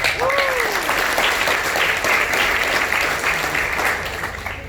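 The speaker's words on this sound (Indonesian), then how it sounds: "Aplaus dulu buat Mary" Audience applause for a member at a business opportunity meeting in Palembang, steady dense clapping filling the room throughout, close and loud, easing slightly at the end.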